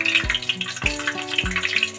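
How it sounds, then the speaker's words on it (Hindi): Eggplant pieces drop one by one into hot oil in a wok, each landing with a soft splash followed by a steady, close sizzle and bubbling that never lets up; no talking. "ऑयल मेरा गर्म हो चुका है। अब मैं इसके अंदर ये बैंगन डालूंगी एक एक करके।"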